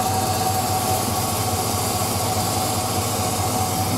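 A car engine runs at raised RPM to break in a new camshaft, with freshly installed headers, producing a steady, loud, droning hum with a constant low rumble and no talk.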